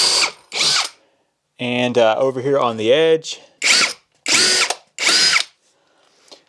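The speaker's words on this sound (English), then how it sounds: "So I'm going to pre-drill right here" A power drill pre-drills tongue and groove siding on a tiny house wall in short, loud bursts, with one longer run that rises and falls in speed; someone speaks briefly between bursts.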